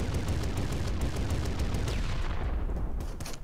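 Sustained, dense rapid-fire shooting from the player's gun in the video game Environmental Station Alpha, loud and continuous throughout with no talk.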